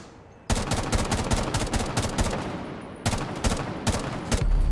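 Rapid automatic gunfire crackles in a video game crossfire, dense bursts of shots starting abruptly, pausing briefly, then resuming loud and close.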